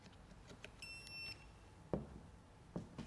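A VCI ITS 600 vehicle diagnostic interface gives a short electronic beep, a bright tonal chirp lasting about half a second, followed by a few soft clicks and handling knocks.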